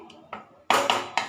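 A lid set on a cooking pan of simmering soybean curry, a few light metallic taps followed by a louder clatter and two quick knocks as it settles, close and brief.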